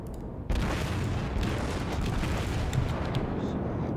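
Battleship guns fire in the World of Warships video game, opening with a sudden loud boom followed by a sustained rumbling roar of naval gunfire and explosions, with faint further blasts layered within.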